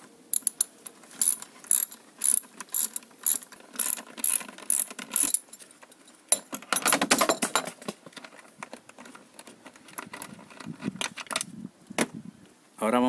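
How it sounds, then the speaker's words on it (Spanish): A ratchet with a 12 mm socket on a double extension loosens the intake manifold bolts of a 1.2L Chevrolet Spark/Beat. It gives rapid clicking bursts in a steady, repeated rhythm, close up, with a busier stretch of clatter midway. "Y ahora con un dado de 12 milímetros vamos a quitar los tornillos del múltiple."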